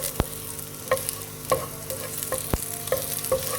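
Finely chopped garlic frying in a little oil in a pan, a steady sizzle with a few sharp stirring scrapes and taps, close and alone with no voices.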